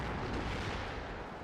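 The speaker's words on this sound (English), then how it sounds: "Huge explosions coming in from the 155 millimeters." Heavy 155 mm artillery shells exploding in the WARNO wargame, a dense continuous roar of blasts and rumbling booms filling the whole moment, loud and close.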